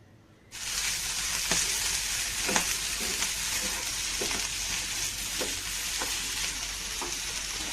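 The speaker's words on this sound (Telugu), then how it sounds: "అదే బాండిలో చినంగాకి వేసుకొని పచ్చివాసన పోయేటంత వరకు వేయించుకుందాం" After a brief quiet moment, a pan bursts into a steady sizzling hiss, with periodic scraping taps of a spatula stirring the food.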